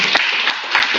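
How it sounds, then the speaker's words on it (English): An audience at a youth innovation and entrepreneurship event gives a steady burst of clapping, dense and fairly close throughout, with no talk over it. "Round of applause to Prakriti"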